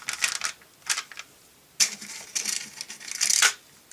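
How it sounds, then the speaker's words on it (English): Screws being driven back into a vintage Transformers Optimus Prime toy, close sharp plastic-and-metal clicks and ratchety scrapes in short uneven bursts with gaps of quiet between them. "just going to grab a couple of screws out of the screw pot and start screwing this back together"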